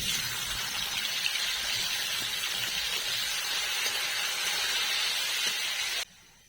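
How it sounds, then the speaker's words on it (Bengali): A continuous, even hiss of cashews frying in hot white cooking oil, fairly close, cutting off suddenly near the end. "আমি সাদা তেল দিয়ে দেবো কাজু আর কিশমিশ ভাজার জন্য"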